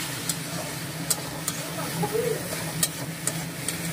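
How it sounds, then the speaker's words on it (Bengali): Spice paste for egg curry sautéing in a pan, a steady close hiss and sizzle with occasional sharp clinks of a spoon against the pan; no talk. "এই যে এখন মশলাটা কষিয়ে নেবো"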